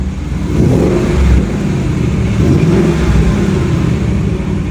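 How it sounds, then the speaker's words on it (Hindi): A Ford Mustang GT with a 5.0-litre (5000 cc) V8 revs hard on the throttle, a loud, deep, close engine roar that swells and holds steady. "इसको एक थ्रॉटल दीजिएगा ज़रा"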